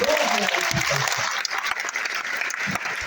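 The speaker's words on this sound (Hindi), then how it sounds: "ताली बजा के स्वागत करिए।" An audience at an indoor World No Tobacco Day event in Delhi claps in welcome, a dense, sustained burst of applause that gradually thins out.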